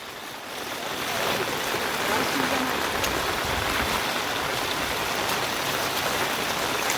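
Steady rain falls on a flooded, muddy residential road in Ujjwal Nagar, Khokarla, Bhandara, making a dense, continuous hiss that stays fairly close and even throughout.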